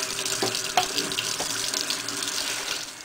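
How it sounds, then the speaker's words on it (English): Tap water runs steadily into a sink to rinse out dirty wash water, a continuous splashing gush close by with small clinks. "And then let the dirty water out with some cool water"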